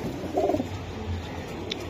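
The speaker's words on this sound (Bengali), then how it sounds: "এটা পুরান জাতের সাপছিলা কবুতর, সেই রকম মাদি একটা কবুতর" Giribaz pigeons, an old-breed pair kept by a fancier, give a brief low cooing burst near the start, soft and close, then fade under steady background hum.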